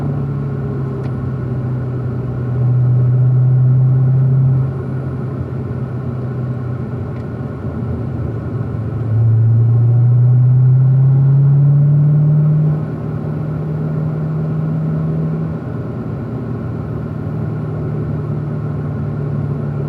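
A race car climbing a hill on the Pahrump, Nevada track, its engine a loud, steady close-up drone from inside the cabin, with pitch rising and falling through two surges of acceleration and no talk.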